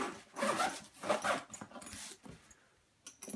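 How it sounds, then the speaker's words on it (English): A heavy-duty number 2 zipper runs along the main compartment of a Travelpro FlightCrew5 Large Crew Cooler, making several close, raspy pulls in quick strokes, followed by softer fabric handling. "Main compartment zips open and closed with a heavy duty number 2 main zipper"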